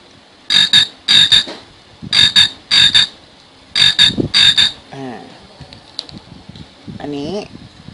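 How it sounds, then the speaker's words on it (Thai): A toy frog gives electronic croaks, loud and close, in three pairs of bursts at a steady rhythm. Someone then speaks briefly over faint handling noise. "นี่เป็นกบ"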